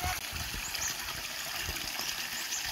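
Cold spring water pours steadily at a small waterfall, a continuous close trickling and splashing rush with low gurgles underneath and no talking.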